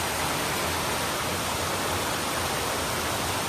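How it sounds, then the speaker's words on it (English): Eliza Brook, a mountain stream on a hiking trail, flows as a steady, loud, broadband rush of water that fills the whole clip without a break. "This is Eliza Brook."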